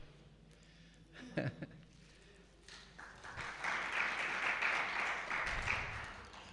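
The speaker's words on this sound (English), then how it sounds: "I don't deserve any applause." Applause from a temple audience at ISKCON Dwarka, a soft, fairly distant wash of clapping that rises after a few isolated sounds and holds before fading.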